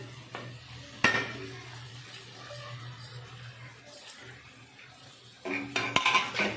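A spoon clanks against the pan as tomatoes and green chillies are stirred into gongura chicken, a loud knock early and a burst of scraping and clattering near the end over a low hum.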